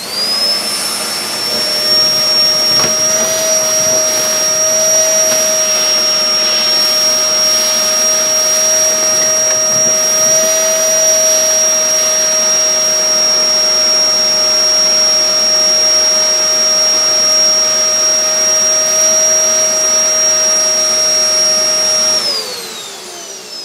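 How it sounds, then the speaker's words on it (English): A Hoover Dustmanager bagless upright vacuum cleaner runs loudly and steadily with a high whine while sucking up dirt through its hose, then powers down at the end. "we'll suck up all this dirt using the hose."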